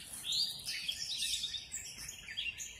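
Several birds sing and chirp in the morning with bright, overlapping tweets and warbles at moderate distance, continuous throughout with no talking.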